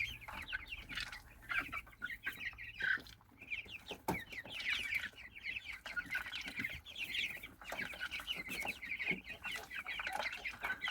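Several young chicks of a giant breed cluck softly and continuously nearby, overlapping chirps and murmurs with no other sounds.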